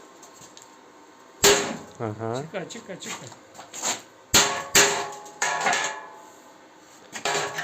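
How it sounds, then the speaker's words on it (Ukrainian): Sharp metallic hammer blows on steel ring out several times at irregular intervals, with people talking between the strikes, while building a stove from an autoclave in a garage. "Треба молотком бити"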